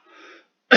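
A lecturer clears his throat during a Korean class on non-destructive testing: a faint, brief rasp, then a short silence and a sharp, loud throat-clearing burst at the end.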